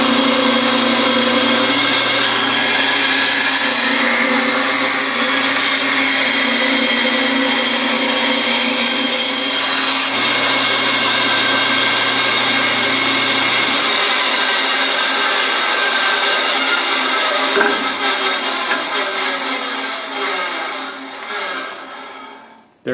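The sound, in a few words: band saw running and making a cut in wood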